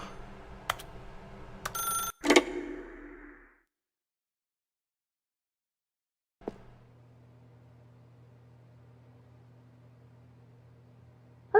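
Telephone in the video game The Stanley Parable: a couple of sharp ringing bursts early on, then silence, followed by a steady low electronic hum with a faint click at the end.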